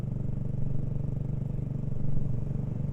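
A BSA Goldstar 650 motorcycle rides steadily around the grounds of a stately home, its engine giving a continuous low, throbbing drone with slight rises and falls, close and without speech.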